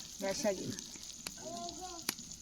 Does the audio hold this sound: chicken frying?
yes